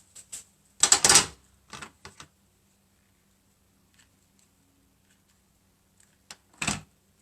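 Scissors snip through a piece of winter wreath decoration in a few sharp, close cuts clustered together, then quiet before one last snip.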